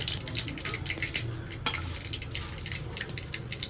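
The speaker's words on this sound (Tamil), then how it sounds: "கடலைப்பருப்பு உளுத்தம் பருப்பை வந்து சேர்த்து வறுத்துக்கலாம்" Chana dal and urad dal frying in oil for tamarind rice produce a close, continuous sizzle with scraping stirs and light clinks of a spatula in the pan.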